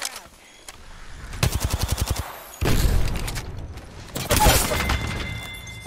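Automatic weapon fire in the battle royale game Apex Legends, a rapid burst of evenly spaced shots followed by two louder, denser volleys of gunfire with crackling impacts, close and loud, no talking.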